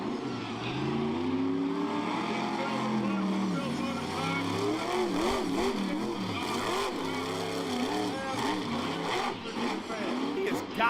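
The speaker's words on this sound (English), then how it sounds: "Listen to him on that throttle, on and off the throttle" A monster truck engine roars on and off the throttle at an arena show, surging and dropping in loud repeated revs while a commentator talks excitedly over it.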